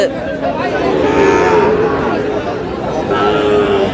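A traditional rural livestock market in Dinajpur with cattle and Sahiwal bull calves, where a close, loud, drawn-out moo rises over a busy background of crowd chatter and talking.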